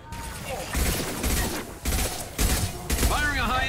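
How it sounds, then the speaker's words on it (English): Gunfire from Mass Effect 2 Legendary Edition on Korlus: repeated heavy shots in bursts, with a character's voice calling out over the combat. "Firing a high-impact shot!"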